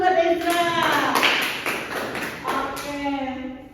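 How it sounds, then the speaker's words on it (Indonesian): A classroom of students claps in a rhythmic pattern of sharp, evenly spaced taps for a classmate, close and fairly loud, with voices chanting along over the clapping. "Oke, tepuk tangan dulu buat Ezra."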